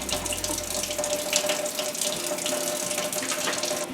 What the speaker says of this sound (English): I'm going to wet sand it really, really good so that the glitter is kind of smooth